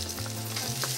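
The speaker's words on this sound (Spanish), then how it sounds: "Voy a sellar las tres carnecitas, ¿ya?" Three pieces of meat searing in hot oil in a pot, a dense steady sizzle with a low tonal hum running underneath, close and continuous.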